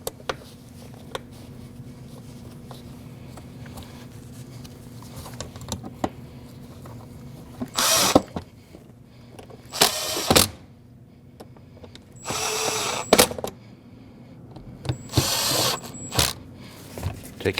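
Screws being driven down on a fuel pump cover under the rear seat of a 2014–2023 Jeep Cherokee, with several short whirring power-tool bursts separated by pauses over faint background hum.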